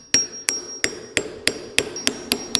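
A hammer taps a 24 millimeter socket into place while fitting a part on a 40-year-old Bass Tracker boat, eight sharp metallic strikes in a steady rhythm, close and clear with no talking.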